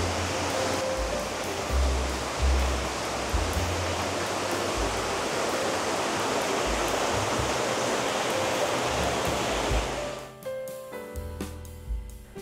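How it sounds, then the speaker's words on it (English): A waterfall in an upscale Phnom Penh town gives a loud, steady rushing roar close by for about ten seconds, then drops away abruptly into quieter ambient sound. "Waterfall here."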